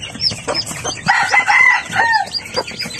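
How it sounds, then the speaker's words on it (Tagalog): Chickens on a farm cluck and call in quick overlapping bursts, with a louder hen vocalising near the middle and chirps from young chicks mixed in, close by. "Punta naman tayo sa mga sisiw na nauna."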